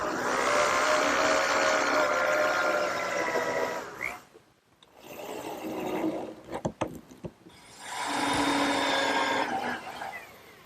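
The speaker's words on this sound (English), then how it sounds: "I'm just going to put 4 screws down each edge" Screws are driven down the edge of a wooden gardener's workbench with a power driver. Two sustained whirring runs are split by a short pause filled with clicks and wood knocks, all close and without speech.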